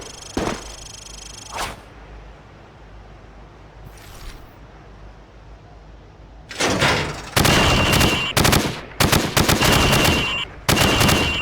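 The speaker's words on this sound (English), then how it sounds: "Now, shoot at the targets while firing from the hip." Rifle gunfire in a Wii shooting game at a firing range: a few isolated single shots, then rapid clusters of loud, sharp, close bursts fired in quick succession, with no talking.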